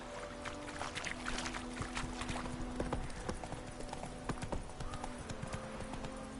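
Hooves of a horse in The Witcher 3 video game clip-clop in a steady trotting rhythm on the ground. The hoofbeats sit fairly close and run under soft ambient game sound and music.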